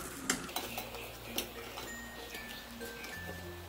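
A spatula stirs melting white chocolate in a bowl, making soft irregular scrapes and light ticking taps against the bowl, fairly quiet with a faint background hum and no talking.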